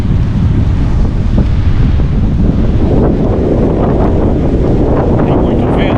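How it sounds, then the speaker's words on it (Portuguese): Strong wind buffets the microphone over steady ocean surf on a wild, green-fringed Santa Catarina beach with good surfing waves, a loud continuous roar throughout. "Tem muito vento também."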